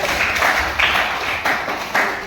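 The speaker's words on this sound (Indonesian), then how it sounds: "Tepuk tangan untuk kita semua." A classroom group claps together during a teaching practice lesson, producing several loud synchronized bursts in an even rhythm, about one every half second, with no speech over them.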